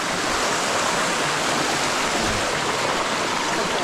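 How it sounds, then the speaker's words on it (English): A small waterfall pours into a stream, giving a steady, dense, close rushing roar of falling and flowing water that holds the same level throughout, with no voices. "The boys doing sticky waterfalls."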